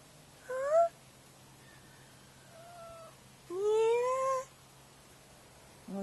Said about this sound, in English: This is one happy kitty.